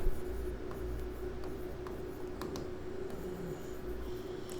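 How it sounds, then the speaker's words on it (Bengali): A pen scratches softly on paper while a 2-to-4 decoder diagram is drawn for a digital electronics lesson, giving faint, close strokes and taps over a quiet room hum. "2 ইন্টু 4 ডিকোডারটা আমাদের আঁকতে হবে। আঁকি।"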